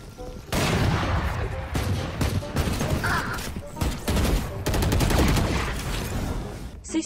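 Sustained gunfire in the tactical shooter Valorant, a fast, loud stream of close shots in bursts with brief gaps, with an excited voice commenting underneath.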